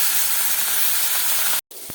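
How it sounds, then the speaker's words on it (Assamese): Fish sizzles as it hits hot mustard oil in a wok, a loud steady hiss that cuts out briefly near the end and then resumes over medium heat. "তেল গৰম হোৱাৰ পিছত এতিয়া মই মাছখিনি দি দিছোঁ"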